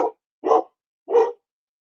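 A dog barks three times at an even pace, each bark short and sharp against silence, fairly close and clear.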